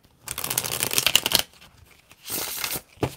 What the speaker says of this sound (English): So watch how I shuffle.